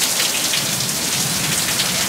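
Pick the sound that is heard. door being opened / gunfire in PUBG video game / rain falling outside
rain falling outside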